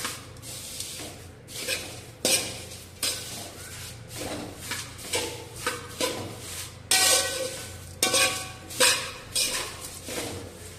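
Crisp nylon poha chevdo is tossed with chaat masala and jaljeera, making repeated rustling, shaking bursts with utensil scrapes against a bowl in a steady rhythm, loud and close.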